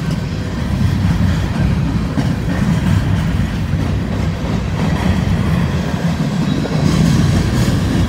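A Union Pacific freight train, apparently empty cars, rumbling past nearby, loud and continuous, with rhythmic clickety-clack of wheels over rail joints.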